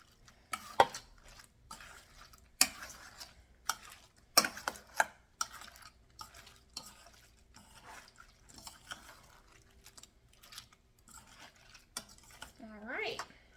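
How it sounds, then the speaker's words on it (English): Shrimp being tossed in bang bang sauce in a bowl, with a string of sharp utensil clinks and scrapes against the bowl at irregular intervals and soft wet stirring between, fairly quiet and close, a brief voice near the end. "Just going to toss them to coat all those gorgeous shrimp."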